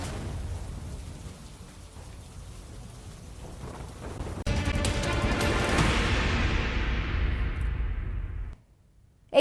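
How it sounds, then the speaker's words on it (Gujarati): Steady rain falling in Veraval, Gujarat, with a sudden heavy rush and rumbling, thunder-like wash that cuts off abruptly near the end. "વેરાવળ શહેરમાં વરસાદી વાતાવરણ"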